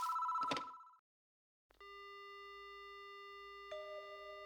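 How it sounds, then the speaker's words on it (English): Telephone ringing in the horror game Spirit Hunter: Death Mark: one loud electronic ring burst, then silence, then the pickup and a steady, clear dial tone that shifts pitch near the end. "Oh, there's the phone. It's ringing."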